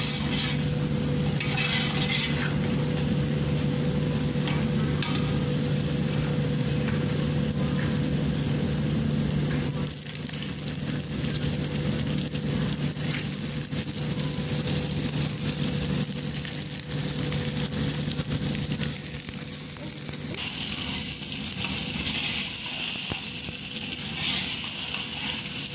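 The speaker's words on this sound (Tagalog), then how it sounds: "Ano ba mag-gisa ng sibuyas?" Onions sizzle and get stirred in a hot pan for a stir-fried beef dish, with a steady, close frying hiss and scraping stir sounds running throughout, plus a low hum under it.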